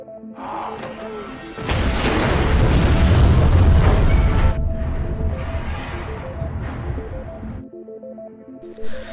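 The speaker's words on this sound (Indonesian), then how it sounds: "Brick pun mengorbankan dirinya untuk meledakkan jembatan tersebut" A dynamite blast blowing up a bridge in a film, a sudden massive deep boom that rumbles and roars for several seconds before fading into debris noise over a tense music score.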